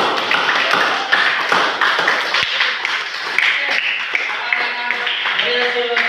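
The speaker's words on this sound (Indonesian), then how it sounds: "tepuk tangan teman-teman" Classmates clap together after a group presentation in a classroom, a dense burst of many hands applauding close by, with a teacher's voice speaking over it.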